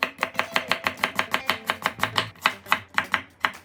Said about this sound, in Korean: 약간 이런 식으로 이런 식으로 기울여 주시고 천천히 썰어 보는 겁니다.